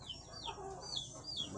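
Free-range village chickens cluck softly in a rural setting, short rising and falling calls repeating over quiet background noise with no voices.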